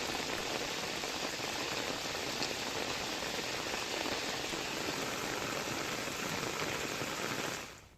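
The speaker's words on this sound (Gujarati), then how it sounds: "ધોધમાર વરસાદ નોંધાયો" Heavy monsoon rain in Surendranagar, Gujarat, pours down in a dense, continuous hiss, loud and close, with no voices, until it cuts off abruptly at the end.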